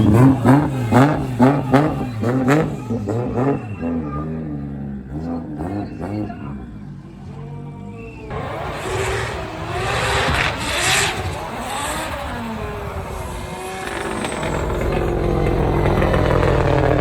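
Drift cars at the D1GP 2023 drifting event, loud engines revving and rising and falling in pitch as they slide through turns. Later, a dense roar of engine and tire noise swells, with rough bursts of exhaust.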